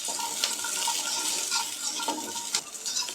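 About ten small onions frying lightly in oil for a Kerala coconut chammanthi, a bright continuous sizzle broken by several short scraping stirs, close and moderately loud.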